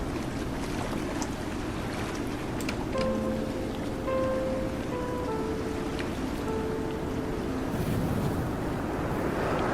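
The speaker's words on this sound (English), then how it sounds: "especially with the sound of the waves" Continuous ocean surf in the video game Dear Esther rolls and washes in a dense, steady roar, with faint tonal notes drifting over it.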